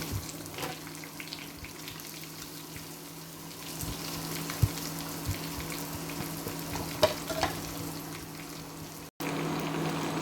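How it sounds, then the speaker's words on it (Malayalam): Coconut oil sizzles and crackles steadily as fish fries in a pan, with a few louder pops and spatters along the way. "ഈ മീനൊക്കെ പൊരിക്കാൻ കുറച്ച് വെളിച്ചെണ്ണ മതി"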